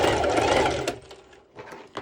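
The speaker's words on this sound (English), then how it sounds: "So I'm just doing a straight stitch over," A sewing machine runs a straight stitch on fabric for a pole dance top, a loud close whirring burst that stops, then a shorter second run.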